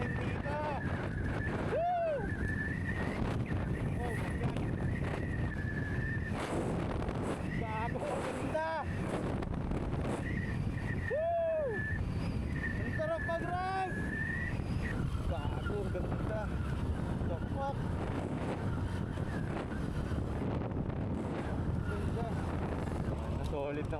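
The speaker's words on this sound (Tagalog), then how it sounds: "Ang lakas ng hangin dito." Strong wind buffets the microphone during a ride on a Honda Fazzio motor scooter along a road, a loud steady roar that runs throughout, with voices talking over it.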